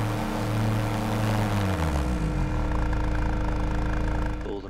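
Schweizer S300 helicopter engine in Microsoft Flight Simulator throttling down, a loud steady rotor and engine drone whose pitch sinks gradually as the throttle rolls back, fading toward the end with no voices.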